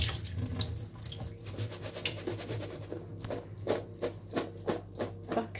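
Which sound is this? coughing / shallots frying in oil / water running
water running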